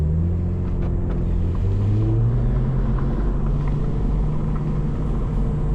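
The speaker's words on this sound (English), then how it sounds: "I'm gonna drive forward to get rid of the smoke." A Cadillac CT4-V Blackwing pulls forward after a line lock burnout, its engine giving a loud, steady, close rumble that climbs gradually in pitch as it moves off, with no voices.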